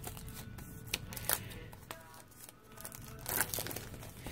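Plastic wrapping on a paper craft kit is cut open and crinkled by hand, a close, quiet run of rustling, crackling handling noise with soft taps and no talking.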